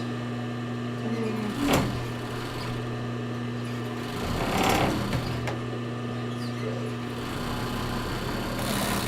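A sewing machine stitches a sports bra, running as a steady mechanical whir with a brief louder burst partway through, close and fairly even, with a light background hum.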